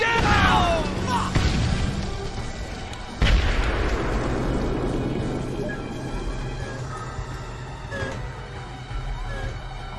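A grenade blast in the Full Spectrum Warrior video game, a loud booming explosion with crashing debris that fades into rumbling noise, with shouting voices around it.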